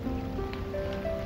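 Steady rain falling, a continuous even hiss that fills the whole clip, with faint sustained tones running underneath.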